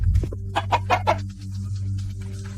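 Chickens cluck nearby in a village yard. A quick run of four or five short, throaty clucks stands close and clear over a low background hum.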